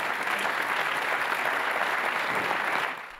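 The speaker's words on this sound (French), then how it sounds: "Vous pouvez l'applaudir" An audience at a sports awards ceremony applauds steadily, a dense even wash of clapping that holds for about three seconds before cutting off abruptly.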